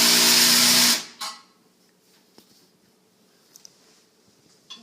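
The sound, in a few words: drill gun tightening toilet part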